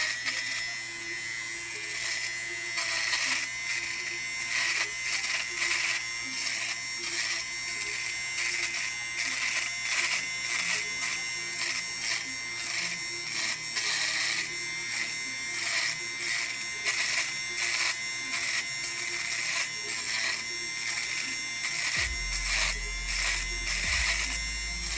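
A sweater defuzzer shaves the edge of a carved foam piece with a steady, close electric buzz that runs without a break, dropping in pitch near the end as it bears down.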